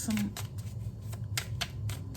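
Soft rapid riffling of tarot cards being shuffled repeats in short bursts, with a low murmur running underneath throughout.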